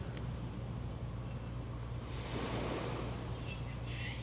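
Gentle waves wash up on a beach shore at Chinaman's Beach, a steady broad wash of surf with wind noise and a constant low hum throughout, swelling slightly in the middle.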